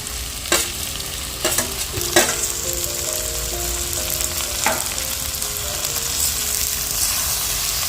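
Fried onions sautéed with okra and potato masala, loud close sizzling with sharp metal spatula scrapes and taps against the pan at irregular moments, no talk.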